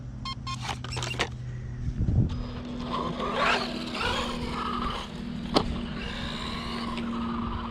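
A small-scale RC car with a cracked, damaged front body drives around a skatepark. Its thin electric motor whines and revs in bursts, with tire scuffs and a sharp knock, heard up close and alone.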